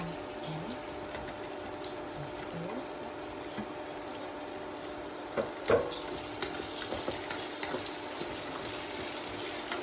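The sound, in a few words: frying crushed ginger in a pan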